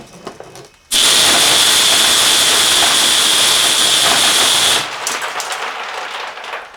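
An airsoft strafer gun fires at 8,000 rounds a minute into a towel, a dense, loud sustained burst of about four seconds that cuts off abruptly, with softer handling noise before and after.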